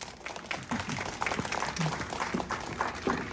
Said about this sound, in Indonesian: Kita aplaus untuk Ranah Minang Youngstown.